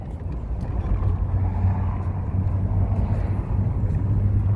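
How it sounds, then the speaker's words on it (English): A car rolls along an all-brick road on a small-town stretch in Texas, producing a steady, close low rumble and road hum that continues without a break and with no talking. "Driving on a brick road."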